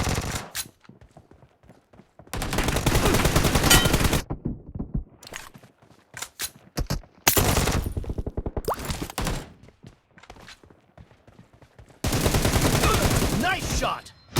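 Gunfire in a mobile team deathmatch shooter played on a phone: loud, sustained automatic bursts broken by short pauses and scattered single shots, with footsteps and game sounds between volleys.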